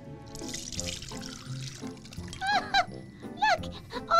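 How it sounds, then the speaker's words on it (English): Lumpy milk with curds is poured through a sieve, giving a steady liquid splashing and trickling with brief higher gurgling bursts near the end, heard alone at moderate level. "And now we're going to pour our milk through a sieve."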